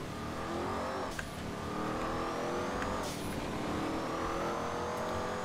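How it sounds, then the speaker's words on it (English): A car driving in GTA 5 Online, its engine droning and revving steadily with rising and falling pitch, a continuous moderately loud hum alone without speech. "I just want to get this car where it's going."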